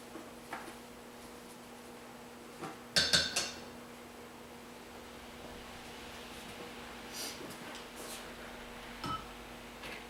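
Soap mixture stirred with a utensil while super fats are added, giving a few faint clinks and scrapes around three seconds, then quiet rustling and occasional light taps over a low steady hum.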